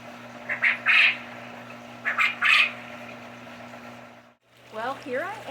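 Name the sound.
adult quail squawking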